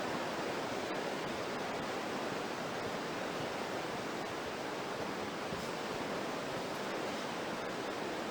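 River rushing through the Aareschlucht gorge, a steady, dense broadband roar of flowing water without pause, alone with no voices.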